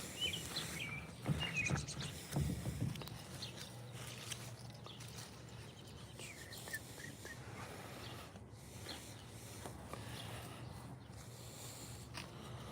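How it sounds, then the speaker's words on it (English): Birds chirp and sing intermittently at a distance over a low steady outdoor hum, with a few brief rustling sounds near the start. "the birds are singing,"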